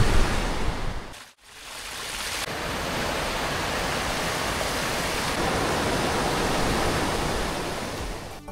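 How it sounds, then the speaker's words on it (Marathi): A large waterfall with heavy flow on a trek near Bhorgiri pours in a loud, steady roar close by, dipping briefly near the start before the wide rushing wash continues unbroken. "हा देखील खूप मोठा धबधबा आहे"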